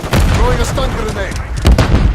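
A stun grenade thrown and detonating in a military shooter video game, a loud close blast amid rolling gunfire and booms, with a voice speaking over the action.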